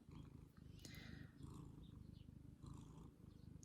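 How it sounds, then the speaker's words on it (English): A pet cat purrs steadily and quietly close by, a continuous low rhythmic rumble with faint rustling on top and no voices. "I don't know if you can hear the purring still"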